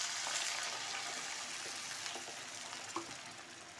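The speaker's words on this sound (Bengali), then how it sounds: "এবার এতে পরিমাণ মতো একটু জল দিয়ে দেবো।" Water poured into a pan of frying potatoes and spices for egg curry, a dense close hiss and sizzle with a faint splash near the end.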